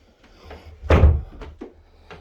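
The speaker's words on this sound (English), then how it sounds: "Again, this door, they all shut correctly, and none of them rub." An interior door in a house shuts with one solid thunk near the middle, preceded and followed by faint soft knocks and handling sounds, close and fairly quiet.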